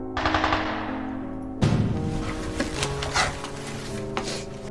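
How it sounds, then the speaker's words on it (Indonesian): Rapid bursts of gunfire crackle through a dramatized scene of a massacre of Arab Palestinians during the Nakba, sustained and loud throughout with a sharp onset partway in, no voices. "Suara tembakan terdengar."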